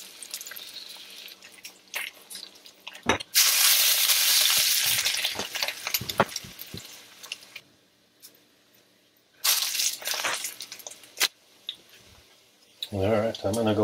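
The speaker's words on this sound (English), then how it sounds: "while I'm frying this up" Bacon sizzles and crackles in a hot carbon steel pan, loud bursts of frying with pauses between them, and a few clinks of utensils.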